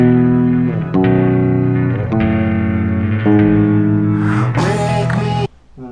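A song's bridge section on guitar over a full backing track, a dense, distorted and effects-heavy wash of sustained chords that swells and brightens toward the end before cutting off sharply.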